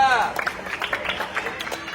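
A group gives a brief round of applause for another team at an outdoor group activity, scattered clapping rising at once under a lively crowd with voices talking over it.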